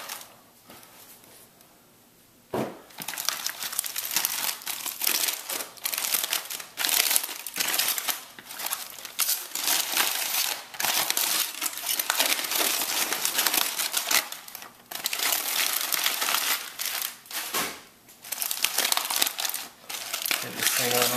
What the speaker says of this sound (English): So I'm just gonna go ahead and remove the towel.